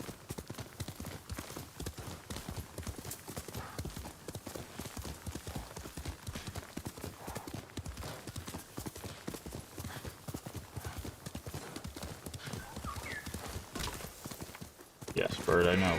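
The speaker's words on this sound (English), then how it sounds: "I guess it was just a horse." A horse trotting in the video game Ghost of Tsushima, with a rapid, steady clip-clop of hooves running throughout at moderate volume, a faint whinny, and a louder burst of game sound right at the end.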